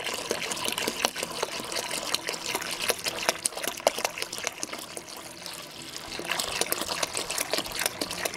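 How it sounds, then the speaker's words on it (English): A gallon of hot water poured into a cheap bucket while making homemade laundry detergent: a close, steady splashing gush that runs unbroken for about eight seconds with no talk. "The other gallon of hot water."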